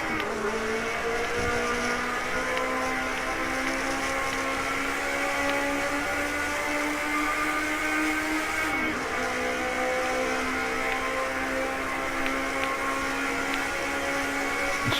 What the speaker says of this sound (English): It's just a monster on the brakes as well, it's just sliding all over the place. Popping and banging.